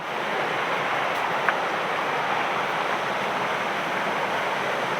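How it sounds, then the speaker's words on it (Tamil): Steady rushing water of a waterfall heard from a mountain trail, a constant broadband roar filling the whole stretch without breaks, with no voices. "ஏதோ அருவி சத்தம் கேட்டுக்கிட்டு இருக்குது தண்ணி சத்தம்"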